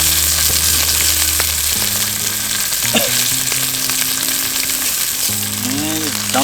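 Meat frying in a pan with asparagus on a camp stove, a steady broad sizzle running loud and close throughout, with faint tonal hums and brief chirps over it.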